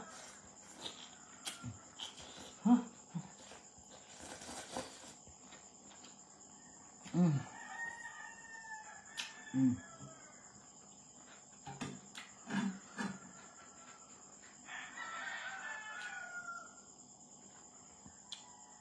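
Chickens outdoors in a rural yard, with a rooster crowing and hens clucking in scattered bursts over a continuous high insect-like drone of crickets, moderately distant.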